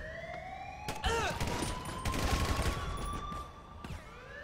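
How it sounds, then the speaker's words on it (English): Gunfire in the GTA 5 video game, a string of sharp shots fired over a rising and falling police siren, with occasional bursts through the whole stretch. "It's shooting this whole time."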